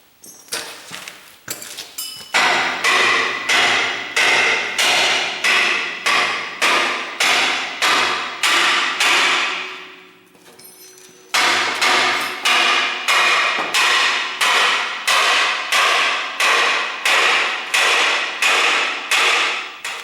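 Hammer striking metal during a Super Stock race car build in a shop, a long run of loud, evenly spaced ringing blows, a short pause midway, then the steady pounding resumes.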